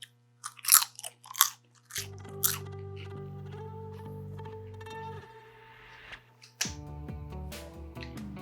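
Several crisp, close crunching bites into a fried Lao eggroll come in quick succession early on, then give way to background music.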